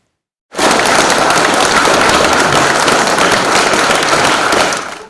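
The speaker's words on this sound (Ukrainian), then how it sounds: "В останній шлях близькі колеги, друзі, шанувальники таланту проводили Віктора Раду під оплески." Mourners at a funeral farewell for an actor break into applause after a brief silence, a sudden dense wall of clapping that holds steady and then begins to fade at the end.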